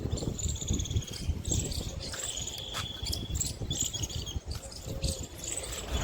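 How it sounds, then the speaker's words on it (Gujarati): Dense, steady insect and bird chirping outdoors at the Kabir Ashram near Morbi railway station, Gujarat, high-pitched calls layered over a constant low rumble, with no voices. "એકદમ કુદરતી વાતાવરણ છે અને પક્ષીઓનો કલરવ તમે સાંભળી શકો છો"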